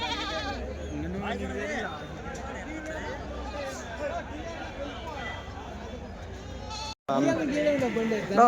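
Male goats bleat repeatedly at a busy Tuesday livestock market in Kadiri, their calls loud and close over a constant babble of buyers and sellers talking, with a brief drop out near the end.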